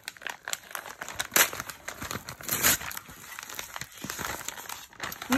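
A parcel being unwrapped: paper crinkles and tears in quick irregular bursts close by, loud rustles alternating with brief pauses, no talking.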